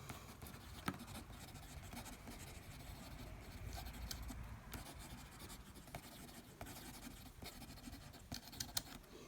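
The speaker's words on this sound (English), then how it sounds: "it lays down a lovely line. It's sort of quite wet. Fast writing." A Visconti Mirage fountain pen with a broad, wet nib writes quickly across paper, giving a soft continuous scratching with small taps and strokes, close up and quiet, with no voices.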